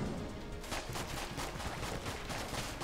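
A standard pistol fires at enemies in the game Enter the Gungeon, producing rapid, steady shots that blend into a continuous crackling barrage over loud game noise.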